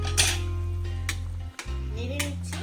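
Chicken curry with broccoli and potato stirred in a pan, a close scrape and clatter of a utensil over a low steady sizzle, with a few brief knocks against the pan.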